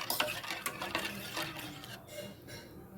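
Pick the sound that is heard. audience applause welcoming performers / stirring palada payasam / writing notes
stirring palada payasam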